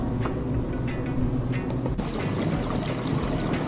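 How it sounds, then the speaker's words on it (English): Water from a hillside stream pours steadily out of a pipe on a mountain trail, a continuous close splashing flow heard on its own. "I'm assuming that's a way to collect water from the stream and not a sewer pipe that's broken and running down the hill."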